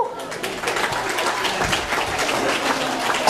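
A lecture audience bursts into steady applause after a biochemistry song, a dense, even wash of clapping hands lasting a few seconds, fairly close and loud.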